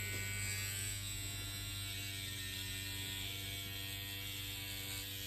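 A TBPHP P10 microneedling pen runs continuously against a scalp, giving a steady, close buzzing whine with mechanical ratcheting and a faint hum underneath.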